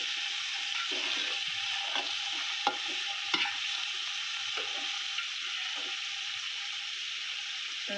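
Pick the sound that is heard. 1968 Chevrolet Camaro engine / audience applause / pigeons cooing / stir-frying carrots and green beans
stir-frying carrots and green beans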